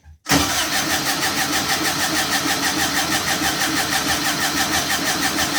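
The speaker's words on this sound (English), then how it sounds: "Going to hit the starter button." Turbo VW engine starting with the starter button: a brief crank, then it catches and settles into a loud, steady, slightly pulsing idle close by.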